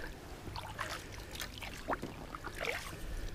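Soft water sloshing and paddle splashes from an inflatable fishing kayak, a few light strokes dipping in and pulling through, close by over a low background rumble.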